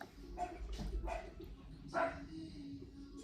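A pet dog barks a few short, muffled times indoors, with quiet room noise between the barks and no talk.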